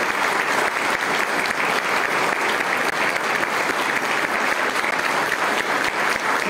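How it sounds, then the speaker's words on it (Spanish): Audience applause at a tribute ceremony in Tepeaca, a dense, sustained ovation from a large crowd filling the space evenly, loud and continuous without interruption. "le brindemos un fuerte aplauso a nuestro paisano, el señor Antonio Tlatelpa Pérez."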